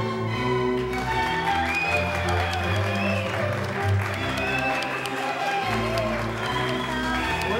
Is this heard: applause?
yes